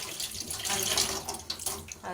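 Plain tap water runs over wheat dough being washed by hand in a sink, a steady splashing flow with brief bursts of sloshing; faint talk sits underneath.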